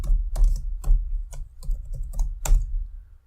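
A command typed on a computer keyboard in a Linux terminal, a run of about ten distinct, close key clacks at an uneven pace with a low thump on each stroke.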